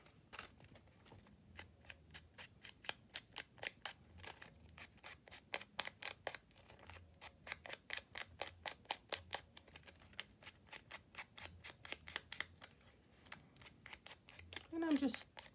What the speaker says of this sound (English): trim that down a bit.